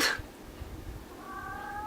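A cat lets out a meow, a brief cry at the start followed by a drawn-out, rising yowl near the end, fairly close.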